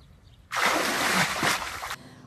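A person jumps into cold water by a lakeside or riverside setting in Bern, a sudden loud splash followed by a roaring, sloshing wash of water that fades after about a second and a half.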